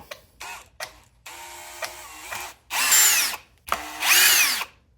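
A power drill driving screws out of a Redcat Valkyrie RC car, with short whirring bursts that rise and fall in pitch, two longer loud runs near the end and brief gaps between, close by.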